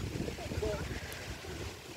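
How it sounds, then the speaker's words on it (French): Wind buffets the microphone in a steady, loud rumble outdoors near the water, with a sailboat and waves in the setting; a voice may be faintly present. "Je peux faire arrêter le vent, s'il te plaît?"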